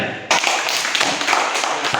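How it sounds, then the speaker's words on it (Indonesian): Children clapping their hands in a classroom, a burst of many hands starting abruptly and continuing steadily, fairly loud. "Ya baik tepuk tangan kalian."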